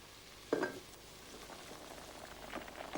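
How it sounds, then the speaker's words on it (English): Thick cucumber slices simmer in a covered pan, giving a faint, steady bubbling sizzle with a brief louder burst near the start and soft crackles later; no one talks. "let the cucumbers simmer for about 5 minutes"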